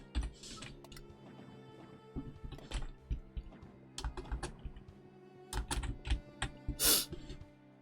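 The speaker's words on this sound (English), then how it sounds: "So I'm trying to get it away from the keyboard so you don't hear the rat-a-tat-tat." Rapid computer keyboard typing in bursts of clicks and clatter, close by and moderately quiet, with short pauses between runs and a louder cluster of keystrokes near the end.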